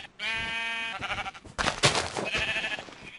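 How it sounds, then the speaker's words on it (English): Sheep bleat in a video game, several wavering, harmonic cries in quick succession, fairly loud and close, followed by bursts of other game noise. "I have a ton of black sheep over here"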